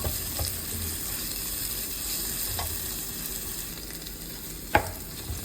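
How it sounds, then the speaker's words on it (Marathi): Tomatoes sautéing in a pan for a tilapia fish dish, giving a steady, soft sizzle throughout with one brief sharp clink near the end; no one speaks. "टोमॅटो पण व्यवस्थित परतून घ्यायचे."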